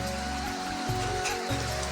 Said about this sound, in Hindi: आज भी बारिश हो रही है